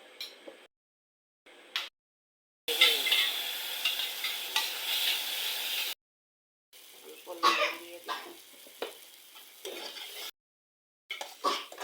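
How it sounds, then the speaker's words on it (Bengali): Ground turmeric, chili, cumin and coriander powders fry and are stirred in hot oil with panch phoron, giving a steady loud sizzle in bursts broken by silent gaps and scraping stirs. "এদিকে হলুদ গুঁড়ো, মরিচের গুঁড়া, জিরার গুঁড়া, ধনিয়ার গুঁড়া এখন ভেজে নেব।"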